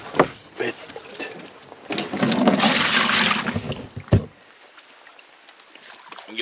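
Water splashes loudly from a boat during a night pike-fishing trip as a fish is landed, a burst of sloshing between brief knocks and thumps, with faint speech around it.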